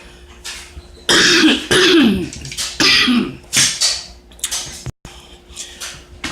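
A harsh coughing fit with several loud, rough coughs and throat clearing in quick bursts, close up, with a short silent gap near the end.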